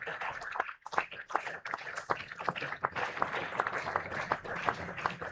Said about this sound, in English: Getting a really good hand